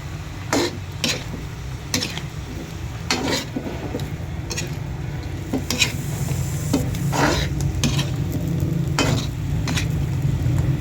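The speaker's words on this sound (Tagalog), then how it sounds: "Atin po siyang muling halu-haluin" Pakbet vegetables are stirred in a sizzling cooking pan, with the utensil scraping and knocking against it in repeated strokes. The sharp, irregular scrapes sit over a constant frying hiss.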